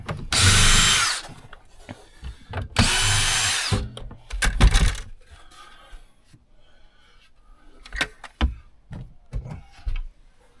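A power drill unscrews screws from interior trim on a tour bus conversion, with two loud whirring bursts early on followed by shorter spins, clunks and handling knocks.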